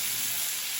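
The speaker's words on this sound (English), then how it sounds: "we're going to let the onion and the pineapple saute off" Onion and pineapple sauté in a pan for sweet and sour chicken, giving an even, close sizzling hiss that holds steady throughout with no voices.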